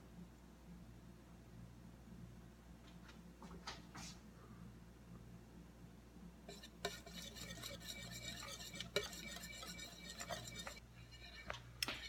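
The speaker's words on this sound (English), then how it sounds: "Okay, so I've whisked half a cup of the cooking liquid into my egg and cheese mixture" A whisk works half a cup of pasta cooking liquid into an egg and cheese mixture for spaghetti carbonara. It starts with quiet, scattered clinks, then turns into rapid, continuous scraping and tapping against the bowl from midway on.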